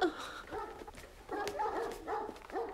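Dogs indoors bark and whimper in short, intermittent bursts, fairly close, with brief pauses between the calls.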